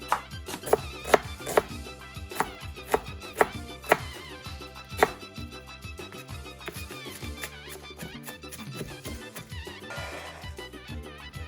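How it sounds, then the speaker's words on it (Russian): An onion is finely chopped with a knife on a board for Uzbek samsa filling: a run of quick, crisp taps over soft background music, thinning out after a few seconds. "Сначала очень мелко нарезаем лук"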